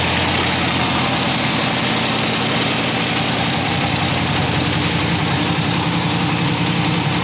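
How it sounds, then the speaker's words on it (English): A heavy Chevy Silverado prerunner pickup engine rumbles loudly and steadily at idle, a deep throbbing drone with a faint knocking rhythm, close and constant. "Would you be cool to do like a startup of this thing? Maybe we could just hear it start up."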